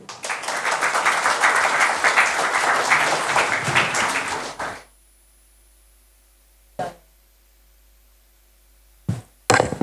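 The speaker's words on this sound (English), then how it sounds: "A big round of applause, sir." An audience at a financial education event applauds after a presentation with dense clapping for about five seconds before stopping abruptly, followed by near silence broken by a few isolated knocks.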